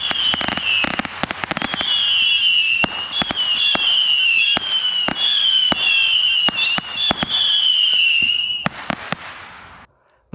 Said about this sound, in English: Most of them have a whistle as the shots fly, and some have either a small explosion or a very small effect at the top of the shot.